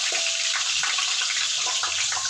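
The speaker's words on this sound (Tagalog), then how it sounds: "may tubig na pala, kaya kumukutok-kutok siya" Oil hissing, crackling and popping in a cooking pot where water has mixed in, a steady bright sizzle with scattered sharp pops, close up.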